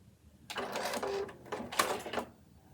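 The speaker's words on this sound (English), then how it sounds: "how quiet is that sewing machine?" A new home sewing machine stitching in two quick bursts, a fairly quiet whirring and clatter close by, separated by a brief pause with near silence before and after.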